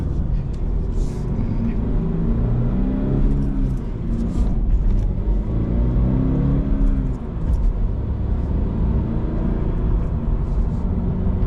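A 2025 Toyota GR86 engine pulls through the gears, its tone climbing in repeated rising sweeps with brief dips at each shift, heard from inside the car as a steady, moderately loud drone.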